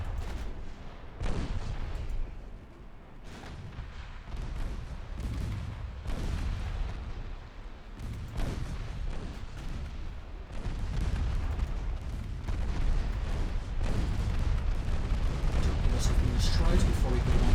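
Naval artillery salvos thunder in the warship game Ultimate Admiral Dreadnoughts, heavy booms repeating every second or two and building into a continuous rumble of gunfire while someone talks over the battle.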